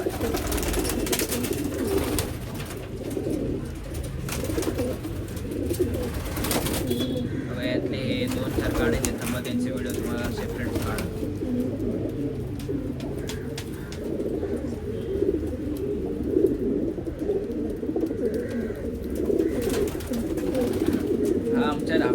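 Racing pigeons coo softly in a steady, overlapping murmur while people talk nearby.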